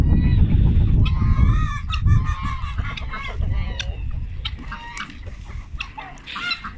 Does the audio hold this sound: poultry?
yes